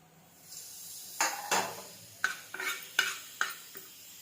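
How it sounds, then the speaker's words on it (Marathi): Coriander seeds being dry-roasted in a pan while cooking for puran poli, heard as a series of sharp scraping stirs and clinks of a spatula against the pan, about eight distinct strokes, close and moderately loud with no talk. "आता त्याच्यावर आपण थोडीशी धनी टाकू धने पण थोडं भाजून घेऊ"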